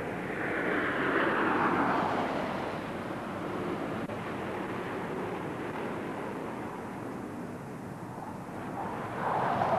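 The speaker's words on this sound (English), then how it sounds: "And now F-18s, eight of them, from the Canadian Air Force." Eight military F-18 fighter jets pass in formation over a 1994 D-Day remembrance event, a continuous broad roar of jet noise with swelling rumble that peaks at the start and again near the end, steady and fairly distant.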